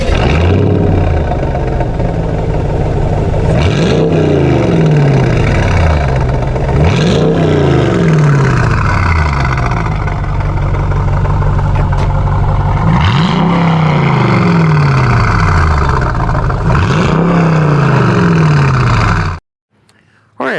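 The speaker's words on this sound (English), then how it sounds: "one of the most distinguished features of the car on the back is the quad AMG exhaust tips that you see here. And they absolutely sound amazing." Mercedes-Benz SLK55 AMG (R171) with quad AMG exhaust tips, revved repeatedly in loud rising and falling sweeps, each rev building and dropping back to a burbling idle, close up, cutting off abruptly at the end.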